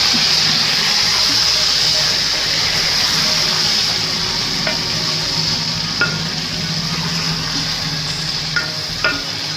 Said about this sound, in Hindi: मिक्स करेंगे इसको अच्छी तरह से।